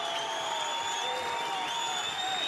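Boxing crowd at a Dublin fight night between Jamie Conlan and Junior Granados, a steady roar of cheering and clapping filling the arena with sustained whistles over it, unbroken throughout.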